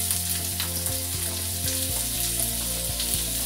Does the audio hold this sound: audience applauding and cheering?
no